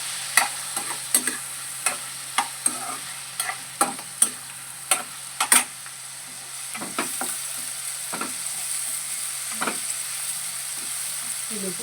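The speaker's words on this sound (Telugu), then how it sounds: "టమాటాలు బాగా మగ్గుతున్నాయండి" Tomatoes cooking in a pan for an eggplant and pea curry, a steady low sizzle broken by sharp, evenly spaced stirring clacks that thin out midway, heard up close.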